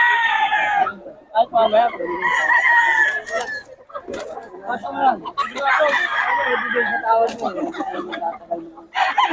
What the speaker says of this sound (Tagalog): Sana mga manok natin, boss.